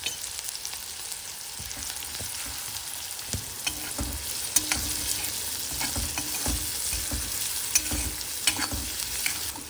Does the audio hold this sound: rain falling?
no